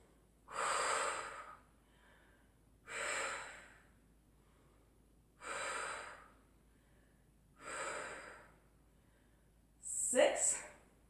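Heavy rhythmic breathing during an ab exercise on a mat, five loud close breaths spaced about two seconds apart with quiet pauses between, the last one sharper and more strained.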